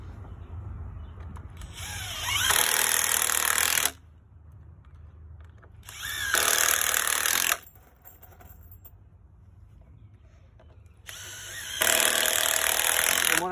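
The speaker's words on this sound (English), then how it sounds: "Now I'm going to reach around and I'm going to screw this 2x10 into this 2x10 when I reach around here." A power driver sinks 3-inch screws into 2x10 lumber in three separate loud bursts of high whirring, each lasting one to two seconds. Quieter pauses fall between the bursts, with no talking.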